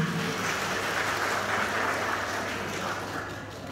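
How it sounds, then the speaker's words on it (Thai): Guests applauding the bride and groom at a Thai wedding engagement ceremony, a dense continuous patter of many hands clapping, moderately distant and softening slightly toward the end. "ขอเสียงปรบมือแสดงความยินดีกับน้องทั้งสองด้วยค่ะ"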